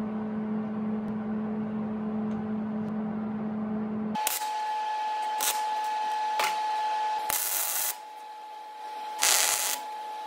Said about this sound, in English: now that I have the belt grinder, I can do it a little faster this way